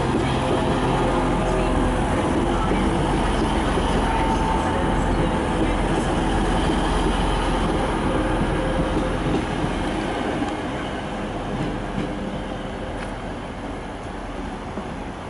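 A British Rail Class 185 diesel train on a Newcastle service rumbles through Manchester Piccadilly station. A continuous loud, close engine drone and wheel noise rolls on and eases slightly toward the end.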